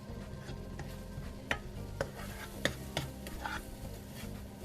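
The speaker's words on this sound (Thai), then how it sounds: "put some broccoli in the pan to get some softness a little bit before we put on the filling" Broccoli stirs and softly sizzles in a pan still holding bacon fat, with a few light scrapes and taps of a utensil against the metal.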